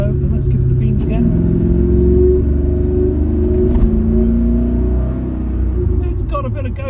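Old Porsche 928 accelerating hard through the gears in traffic, a close, deep rumbling engine climbing in steady pulls with a brief lift near the end, someone talking over it.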